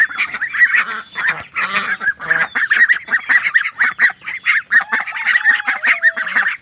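A group of ducklings peep and chatter nonstop, close and fairly loud, their overlapping high calls forming a busy, continuous chorus.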